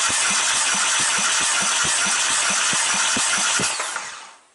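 A 2016 Mercedes-Benz A-Class W176 with the 1.6-litre petrol M270.910 engine is cranked for a compression test on the first cylinder. The starter gives a steady, rhythmic chugging for about four seconds, then stops.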